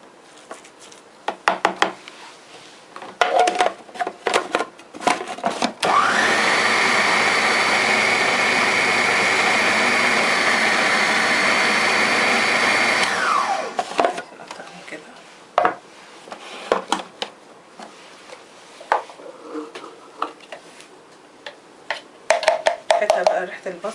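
A food processor blends onion, garlic, vegetables and fruit for Korean tteok galbi. It runs loud and continuous for about seven seconds, with scattered knocks and kitchen clatter before and after.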